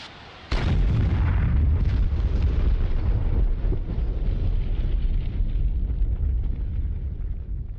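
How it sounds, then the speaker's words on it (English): An air-to-ground missile strikes in the DCS flight simulator game, a sudden loud blast that swells into a heavy, sustained rumbling roar lasting several seconds, with no voices over it. "Okay, that was an air-to-ground missile."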